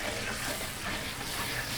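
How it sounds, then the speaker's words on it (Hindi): Tomatoes and yogurt fry in a pan on high flame for a mutton karahi, giving a steady, close sizzle that runs unbroken throughout. "इसको हम तेज़ फ्लेम पर भून लेंगे"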